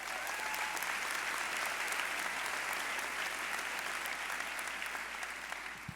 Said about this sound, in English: if you keep clapping, you're going to drag it out